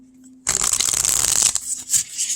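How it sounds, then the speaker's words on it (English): A tarot deck printed on linen cardstock being shuffled close up, one quick riffle burst of about a second followed by a few softer card slaps. "It shuffles."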